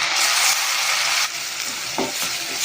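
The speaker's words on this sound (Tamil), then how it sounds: "தக்காளியும் சேர்த்து வதக்கி விட்டுடலாம்." Onions and tomato sauté in a hot pan, a loud continuous sizzle with stirring scrapes and a brief dip as the pieces are moved around.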